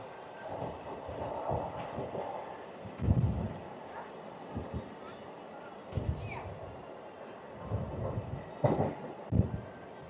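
A DEMU diesel train on the Renigunta–Kadapa line rumbles along with periodic wheel clatter and thumps, heard from on board at moderate volume, with voices murmuring at times.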